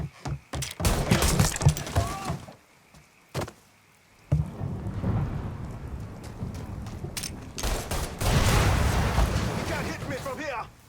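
Gunfire in the Mafia III: Definitive Edition game, with a dense series of loud sharp shots and bursts in clusters separated by brief lulls, with rumbling background noise and voices shouting and talking throughout.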